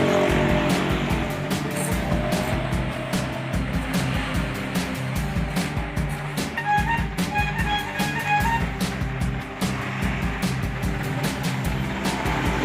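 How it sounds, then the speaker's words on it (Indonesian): A big real truck rumbles past with a steady low engine roar and road noise filling the whole stretch, fairly close and loud, with no talk over it. "Truknya gede,"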